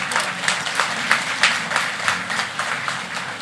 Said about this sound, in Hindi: अप्लॉज